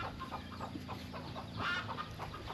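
Chickens cluck softly and repeatedly in a rural village in a mountain valley, heard faint and somewhat distant over low background sound, with no one speaking.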